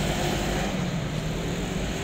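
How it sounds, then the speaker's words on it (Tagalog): Steady traffic noise from cars passing on Loakan Road, a continuous low rumble and hiss with no clear individual pass-bys, moderately distant and unbroken. "Makukuha yung tunog ng mga sasakyan."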